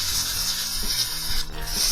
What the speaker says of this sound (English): Blow some dry air to dry it up a little.